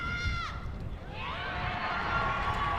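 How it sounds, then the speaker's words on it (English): Crowd at the NZSS National First XV Boys rugby final between Westlake Boys' and Southland Boys' roars and applauds after a kick, a broad sustained wash of noise with whistle-like tones, heard under a commentator's voice. "You can hear the applause before we can see the flags."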